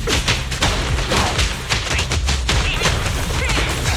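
Rapid gunfire in the Zenless Zone Zero video game comes as dense bursts of sharp shots and thuds, loud and continuous with no pause throughout.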